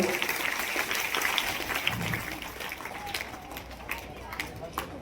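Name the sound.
audience applause for a school prize winner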